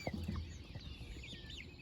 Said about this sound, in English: But he's a pretty special chicken to me.